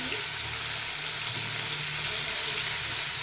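Masala-coated fish fries in a pan, a steady, close, continuous sizzle with faint stirring or scraping underneath, and no voices.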